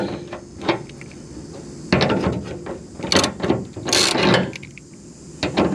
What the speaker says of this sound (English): this is a 9/16 wrench. I got my 9/16 socket.